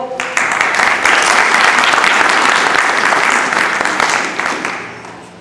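Loud applause from an audience at a university alumni gathering, many hands clapping in a dense burst that swells quickly and tapers off toward the end.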